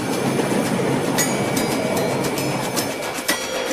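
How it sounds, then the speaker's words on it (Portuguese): A train runs on rails with a continuous rumbling roar and repeated metallic clicks and clacks from the wheels over track joints, steady and fairly loud with no talk. "Na velocidade do trem-bala."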